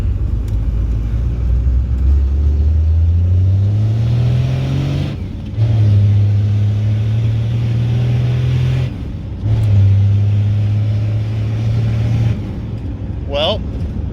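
Pickup truck with a 12-valve diesel engine and a VP pump pulling hard on a road, engine drone rising through gear shifts with brief pauses between pulls, loud and close from inside the cab.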